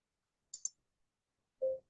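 Two quick computer mouse clicks close together, followed a moment later by a short, louder tone, each alone against silence.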